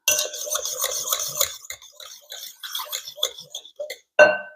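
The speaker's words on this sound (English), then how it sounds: "Then stir that in a little bit with the egg mixture." Spoon or whisk stirring pumpkin into an egg mixture for a honey nut squash pumpkin pie, with repeated light clinks and scrapes against a bowl, close and moderately loud, ending in one sharper knock.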